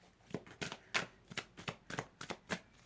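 Large tarot cards shuffled by hand in a quick series of about a dozen soft riffling bursts, close and quiet, with no talking.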